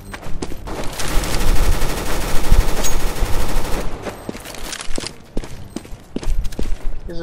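Rapid automatic sniper rifle fire from a Counter-Strike: Global Offensive match on Dust II, a loud dense fusillade of shots for several seconds that thins into scattered single cracks and footsteps.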